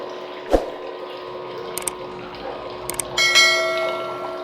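Water pours into a storage tank over a steady tonal hum, with a few sharp clicks along the way and a louder, fuller flow rising toward the end.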